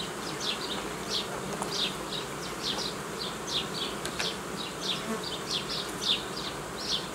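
Dense swarm of honeybees humming steadily around an open hive during a treatment inspection, with a continuous close buzz and brief louder passes of individual bees near the microphone, no voices.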